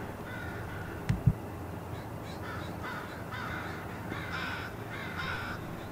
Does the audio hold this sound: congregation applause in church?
no